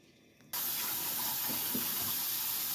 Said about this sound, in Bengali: চুলাটা এখন ধরিয়ে দিলাম।